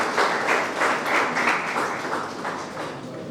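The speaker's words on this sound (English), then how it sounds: "A big round of applause for him," A crowd at a National Sports Day celebration claps for Major Dhyan Chand, moderately loud, steady applause lasting a few seconds and tapering slightly.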